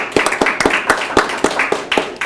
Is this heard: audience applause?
yes